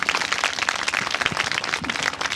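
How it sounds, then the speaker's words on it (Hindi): An audience gives loud, dense applause for teachers and parents at a school gathering, a brief sustained burst with no voices over it. "तो आपके गुरुजन और माता पिता के लिए एक बार जोरदार तालियां।"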